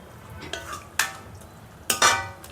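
A spoon stirs mushroom gravy simmering in a pan. A few quick scrapes and clinks sound close by against a low background hiss, with no voices.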